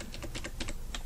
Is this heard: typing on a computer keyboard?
yes